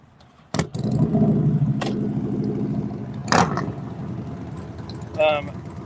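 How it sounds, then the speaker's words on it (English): A drag race car revs at a Midwest Drags route stop, its engine a loud, steady near roar with sharp bursts of throttle and a final blip, with some voices nearby. "Oh, got another race car coming in here."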